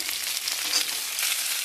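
Vegetables frying in oil in a wok, with potato, pumpkin, pointed gourd and drumstick stems for a vegetarian dish, make a steady broadband sizzle that runs close and unbroken, with no voices.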